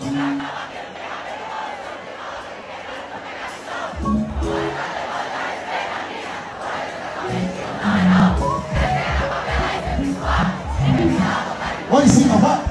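A large concert crowd at a Brega Light show in Ibicuí, Bahia, roars, cheers and shouts continuously, building to louder bursts of yelling toward the end, with occasional voices rising out of the mass.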